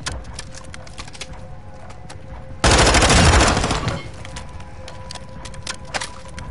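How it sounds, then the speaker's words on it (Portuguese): Burst of video game gunfire in a Call of Duty Warzone Gulag match, a loud dense volley lasting about a second and a half before cutting back to quieter ambient game sound. "Soldados! Estão atirando em mim!"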